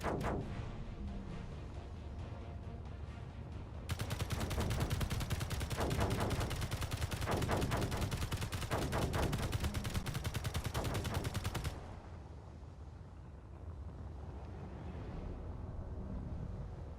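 Station guns firing in the video game Space Engineers: a steady background hum gives way to a long, loud stretch of rapid, overlapping automatic shots lasting around eight seconds, then drops back to the hum.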